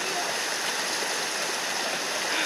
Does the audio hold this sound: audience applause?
no